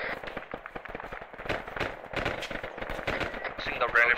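Rapid automatic gunfire from a squad laying down covering fire in Arma 3, dense overlapping bursts crackling continuously for several seconds, with a voice faintly mixed under the shots.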